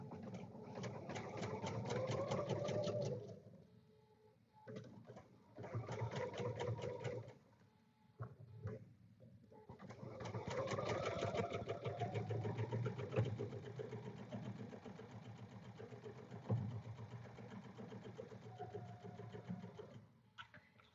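A sewing machine quilts a kid-friendly summer stitch project in several bursts of fast rhythmic stitching, separated by short pauses, with a long continuous run in the second half.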